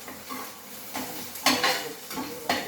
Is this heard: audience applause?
no